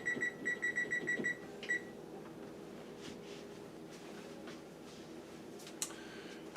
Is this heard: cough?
no